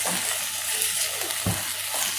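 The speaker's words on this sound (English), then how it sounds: "So this should be nicely fried, because the mutton caramelizes here" Mutton frying and caramelizing in a clay pot, a continuous close sizzle with an occasional dull scrape or knock of a spoon against the pot.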